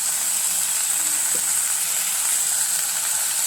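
Curry leaves hit hot oil in a pan while poha is being made, giving a loud, steady, close sizzle and hiss that runs unbroken throughout with no talking.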